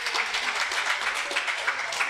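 A crowd at a Hindu temple's Ganesh Utsav festival applauds with steady, dense clapping throughout, fairly loud and continuous.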